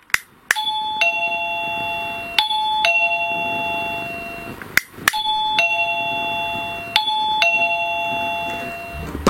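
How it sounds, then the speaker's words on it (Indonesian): An electronic doorbell chimes repeatedly, ding-dong tones sounding twice in pairs with clicks between them, clear and close, with no talking. "Dan inilah bunyi belnya."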